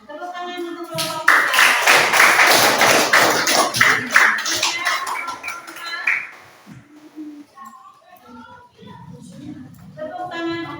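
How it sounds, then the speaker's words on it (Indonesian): A classroom of students breaks into dense, rhythmic clapping for a group that lasts several seconds, with a voice over it and children's voices and speech on either side. "Tepuk tangan untuk kelompok"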